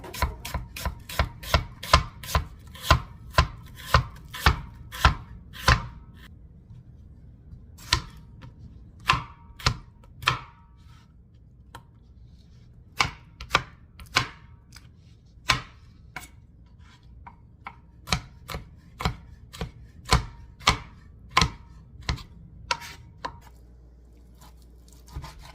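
Knife chopping on a cutting board while preparing bean and bacon soup: crisp, rapid strokes in quick bursts, then pauses and a few slower cuts, close and clear with no talking.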